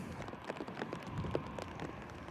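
Steady rain falls outside at Manchester Airport, a dense continuous patter of drops on hard surfaces, close and even throughout with no voices.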